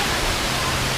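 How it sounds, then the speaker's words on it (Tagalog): Amatong Waterfalls at Sitio Piit, Talumpok West, Batangas City, gives a steady, dense rush of falling water, loud and constant through a brief moment. "Ito yung unang falls."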